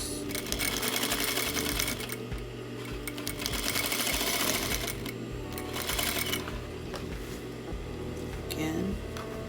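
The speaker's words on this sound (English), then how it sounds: "I'm going to sew to my fingers." A sewing machine stitches a pajama waistband without stopping, its needle rattling in a fast, even rhythm at close range, with some quiet speech-like sound in the background.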